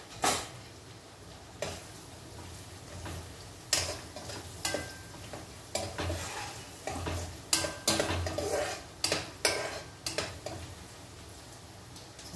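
Onions fry with turmeric in a tempering, a continuous sizzle broken by repeated scraping strokes and clinks of a spoon stirring against the pan.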